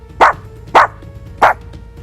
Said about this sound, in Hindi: अरे ये तो शांति के ऊपर भौंकता है।